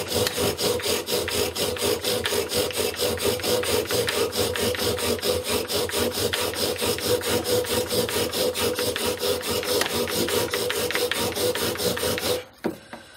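Rapid, rhythmic rasping of a wooden bow drill grinding against wood, loud and close, continuing steadily before stopping abruptly near the end.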